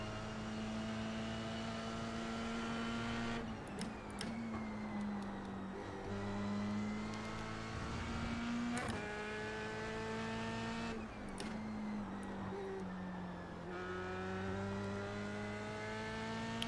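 A Formula 3 race car in iRacing makes a steady, buzzing engine drone that rises and falls through gear changes and corners. The sound is sustained and moderately faint, with no talking.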